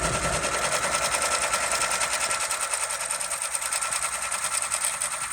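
An embroidery machine stitching a logo, a loud, steady rapid whirring and ticking of the needle running continuously up close.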